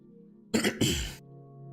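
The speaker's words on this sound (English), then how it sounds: "Struggling to clear my throat as always." A man clears his throat in two rough, close bursts during a late-night PS1 gaming session, then falls quiet.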